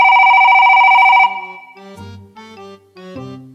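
A phone rings loudly in a steady electronic trill, then cuts off and is followed by a few short tonal blips.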